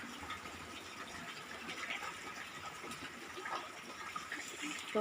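Rainwater pouring off a village roof into a drum, a quiet continuous splashing trickle with a soft watery hiss, steady and fairly faint from start to finish.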